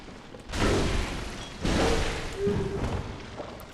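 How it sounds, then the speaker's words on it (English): Enemies bursting in gory explosions after drinking a vial in the action game Bloodborne, three heavy thudding blasts in quick succession, close and loud over game ambience. "He drank a vial and exploded."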